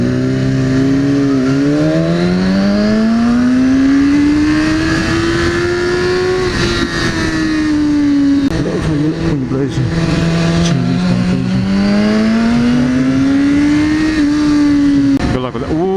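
A Ferrari sweeps past close by with a loud, sustained engine note that rises and falls in pitch as it revs and passes, heard without talk over it.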